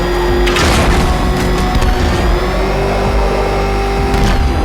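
The Batmobile in Batman Arkham Knight roars loudly with a heavy engine drone, punctuated by several booming bursts and rumbles, close and forceful throughout.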